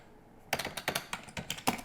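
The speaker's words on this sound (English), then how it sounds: "if I were to just type some text right here" Steady typing on a computer keyboard, entering sample text into a document, as a run of crisp, close keystrokes that starts after a brief quiet moment, with no one talking.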